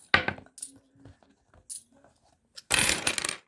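Coins pulled out and dropped in a quiet room: a sharp metallic clatter at the start, a few small scattered clinks, then a dense jangling rattle of coins near the end.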